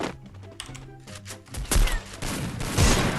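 Gunfire in an online shooter game, a few sharp shots and thuds building to louder bursts near the end, with game sounds and no talk.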